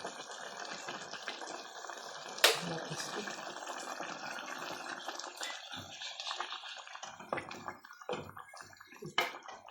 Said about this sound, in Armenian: քիչ է, ջուր լցնեմ